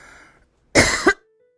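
A woman gives a single short, loud cough up close, a burst of about half a second, after a stretch of near silence.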